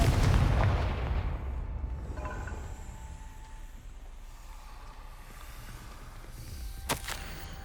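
A Confringo blasting spell goes off in Hogwarts Legacy with a heavy booming blast that fades into a long rumbling tail, followed by a sharp crack near the end.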